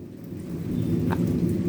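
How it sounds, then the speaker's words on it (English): Thunder in a severe thunderstorm in southeastern Pennsylvania under a tornado watch: a low, distant rolling rumble that builds and echoes over steady rain, with no talking. "The thunder always echoes."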